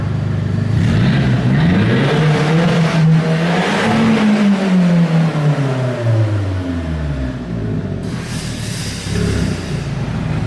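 An Audi TT engine with a newly installed downpipe revs up and falls back, its pitch rising and then dropping in a smooth sweep, loud and close in a shop setting.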